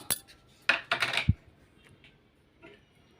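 Fried onions coated with a spoonful of starch and flour being stirred in a pan, giving a few separate clinks and scrapes of the utensil against the metal, fairly close and otherwise quiet, with no talking.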